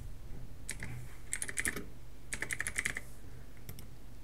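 Typing on a computer keyboard in two main bursts of quick clicks with a few scattered keystrokes after, close and clear over a steady low hum, with no voice.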